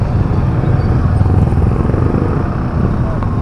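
A motorcycle engine starts up and runs as the bike is ridden off, giving a dense, steady low rumble close by with little variation in loudness.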